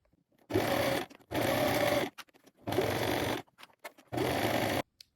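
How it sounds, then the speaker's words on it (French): Sewing machine topstitching a T-shirt hem 2 mm from the edge at a long stitch length, running in four steady bursts of about a second each with short quiet pauses between them, close and clear with no talk. "je vais piquer nervure à 2 mm du bord en allongeant mon point sur 4"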